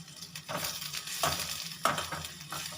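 Green chillies and onion sizzle in a pan while being stirred, giving a steady frying hiss broken by scraping strokes at a close, moderate level.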